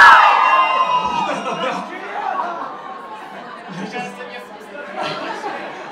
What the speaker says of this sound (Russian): будут кричать девушки